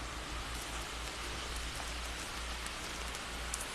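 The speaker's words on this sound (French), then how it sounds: "je fais cela sous la pluie." Rain falls steadily, heard as a dense, even hiss of drops hitting surfaces. It is fairly loud and continuous with no pauses, and no one speaks.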